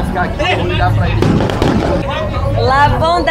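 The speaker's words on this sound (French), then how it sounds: "les feux d'artifice que vous entendez" Fireworks go off during a carnival samba school parade at the Sambadrome, with a cluster of sharp crackling bursts mixed into a loud crowd roar and people talking nearby.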